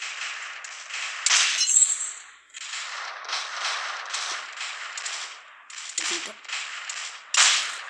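Sharp gunshots crack from an AWP sniper rifle in a first-person shooter game, several loud bursts with game noise between them in a steady bright wash.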